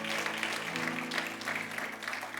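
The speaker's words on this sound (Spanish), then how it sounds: "Denle ese aplauso fuerte a Cristo porque Él es bueno" A church congregation claps in a sustained round of applause, a busy, even patter with steady low musical tones humming underneath.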